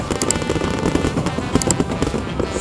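Fireworks go off at the Higalaay Festival launch in Cagayan de Oro, a dense run of crackling pops and bursts that stays steady and fairly loud, with no talk.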